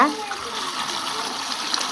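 Water pours steadily into a pot of palm sprouts set for boiling, a continuous close gushing splash with no talking.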